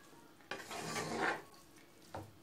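Fermented cabbage pickle sautéing in a covered pan, with a short burst of stirring and scraping, soft sizzling, then a brief clatter near the end; close and fairly quiet.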